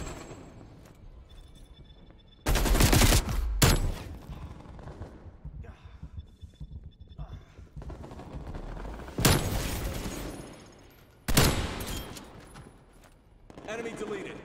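Heavy scoped gun firing in a video game, a few loud, abrupt booming shots spaced several seconds apart, each with a short decaying tail, while a person keeps talking underneath.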